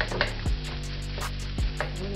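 Rice for shrimp fried rice sizzles in a hot pan as a utensil scrapes and stirs it in a few quick strokes over a steady frying hiss, with no talking.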